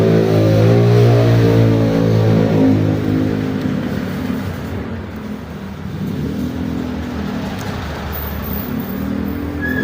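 Road traffic roars close by as a car engine revs and passes, fading into a steady wash of vehicle noise that swells again.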